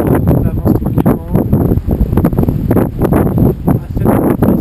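Strong gusty wind of about 15 knots buffets the microphone aboard a sailboat on the Baltic Sea in loud, irregular bursts and low rumbles, continuing throughout with no clear voices.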